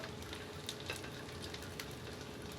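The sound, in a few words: slices of bread frying in a pan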